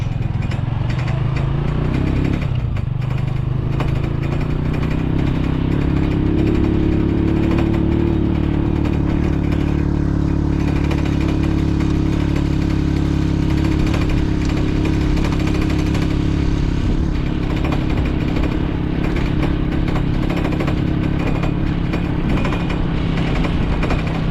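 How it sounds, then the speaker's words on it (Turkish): Motorcycle ridden along a village road with a loosened rear screw, giving a continuous, close engine drone with a rattling clatter over it, steady throughout. "motosikletimizin arkadaki vidası gevşediği için biraz ses yapar herhalde"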